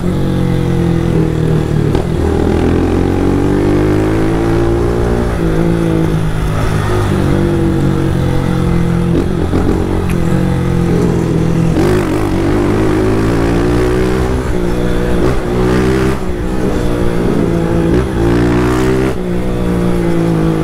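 A Honda Start 160 motorcycle fitted with a sport exhaust revs hard and steadily, its loud, close engine note rising and falling continuously with no talking over it.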